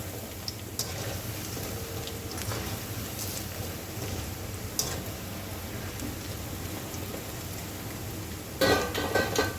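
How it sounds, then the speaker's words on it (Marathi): Moong dal pakoras fry in hot oil, a steady soft sizzling crackle like light rain with occasional utensil clinks and a louder stir near the end. "पकोडे तळताना"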